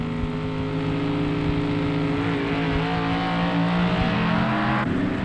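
Supercharged drag racing cars at the 1964 NHRA US Nationals Street Eliminator event, an A-Gas supercharged entry against an AFX car, roar steadily with loud engine drone and rising revs throughout, no talking.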